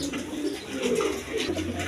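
A pair of Serazi pigeons coo softly and close by in a short burst of low, rolling calls.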